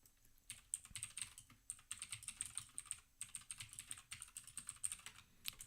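Keystrokes on a Mac keyboard entering a shortcut, a close, quiet run of irregular clicky taps in short bursts with brief pauses, no voices.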